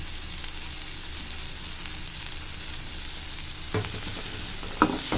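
Tomatoes and spices sautéing in a pan for Tamil egg masala give off a steady, close sizzle. Toward the end a utensil stirs and scrapes a few times, and no one speaks.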